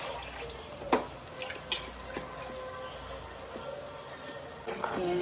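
Water poured into a mixer grinder jar while preparing a spicy-sour fish curry, a soft, faint trickle with a few light drips and splashes in a quiet kitchen.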